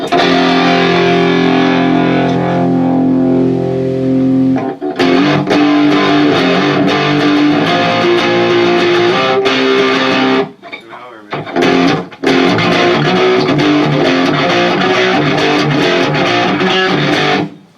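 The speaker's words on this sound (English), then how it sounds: "that's like the most distortion you're going to get out of it." A heavily distorted electric guitar played through a Z.Vex distortion pedal at maximum gain plays loud, thick chords with a brief drop-out midway, close and dense throughout.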